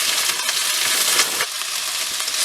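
Greens frying in a pan over moderate heat, a steady bright sizzle and crackle that runs continuously, dipping briefly midway before building again.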